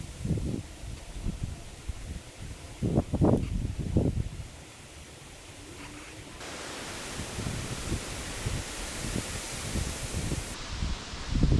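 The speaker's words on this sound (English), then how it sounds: "It is friggin' windy today." Strong gusty wind blowing outdoors in a boatyard around a wooden boat hull, a steady broadband roar with rustling bursts and louder gusts rising and falling over about twelve seconds, no speech.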